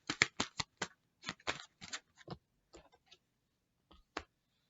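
Tarot cards are drawn and handled in a series of quick, crisp flicks and snaps, clustered at first, then sparser, ending with a single sharp snap, near and clear against silence.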